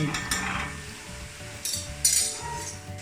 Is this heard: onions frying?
yes